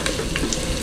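Ginger drops into hot oil with sizzling garlic and onion for Filipino batchoy, giving a loud, close, steady frying crackle with small pops and no voices.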